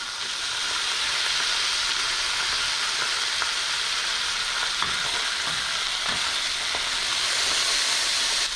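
Pork chops frying in a hot pan, a loud, steady, close sizzle with crackling and spitting throughout, and no talking.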